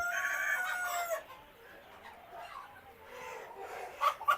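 Chickens on a layer poultry farm, clucking and calling in a brief busy burst at the start, then quieter with a couple of short squawks near the end, moderately close with no talk.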